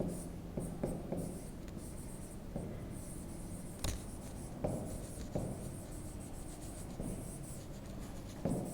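Chalk or marker writing on a classroom board during a lesson, a run of close scratchy strokes and taps with short pauses between words, no talking.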